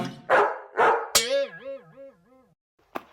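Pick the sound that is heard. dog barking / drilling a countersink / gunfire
dog barking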